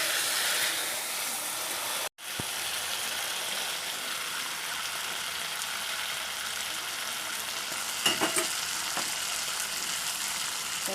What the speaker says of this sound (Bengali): মশলার সাথে ফুলকপি আর আলুটাকে মিশিয়ে নেব।